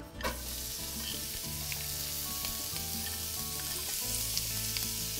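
Diced sweet or yellow onion sautés in olive oil in a pan, a loud, continuous close sizzle with light stirring throughout.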